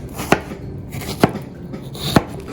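Knife chopping through ripe strawberries on a cutting board, three sharp separate cuts evenly spaced, close and clear, with faint handling noise between them and no voices.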